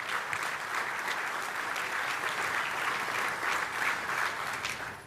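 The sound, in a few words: applause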